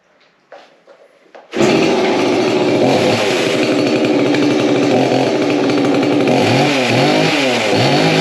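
Chainsaw running after a clutch replacement: a few faint clicks and pulls, then the engine starts and roars loud and close at a steady high idle, with rising and falling revs toward the end.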